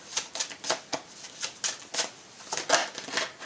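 Tarot cards shuffled and drawn at a reading table, a quick run of crisp papery flicks and snaps in an uneven rhythm, close and fairly quiet, with no voices.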